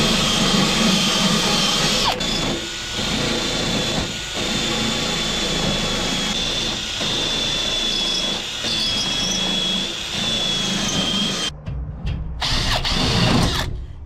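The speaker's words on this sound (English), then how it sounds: "it keeps the spot weld cutter in place" A spot weld cutter on a power drill grinds steadily into car body steel with a loud, high whine that runs almost without pause, then cuts out briefly and restarts near the end.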